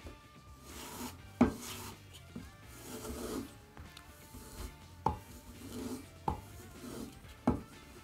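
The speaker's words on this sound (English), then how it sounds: "If the burr is gone and you have a strapping leather, you can use that as well" A serrated knife stropped on a leather strop, soft close rubbing swipes in a steady back-and-forth rhythm with occasional light taps and clicks, quiet and alone without talking.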